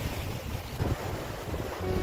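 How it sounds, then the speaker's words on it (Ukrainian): Soft, continuous wash of North Sea waves on the beach at Renesse, Netherlands, with a low rumble of wind in the background. "Пляж Ренесе на північному морі."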